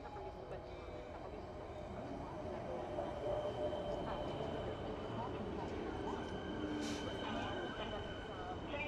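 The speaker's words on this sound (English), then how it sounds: "to get this train coming in." A train arriving at a station, heard as a steady, broad rumble and hiss of rail noise lasting several seconds, fairly faint and continuous, with a brief high squeal near the end.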